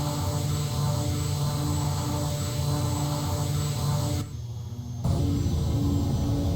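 Embraer EMB 120 engines drone steadily during climb-out, a loud, continuous propeller-turbine hum with a pulsing beat, briefly muffled before returning at full strength.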